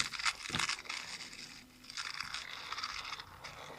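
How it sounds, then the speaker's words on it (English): Crinkly, paper-like rustling, close to wrapping paper being handled, woven into a song, with sharp crackling bursts throughout and no speech. "I'm hearing wrapping paper or something."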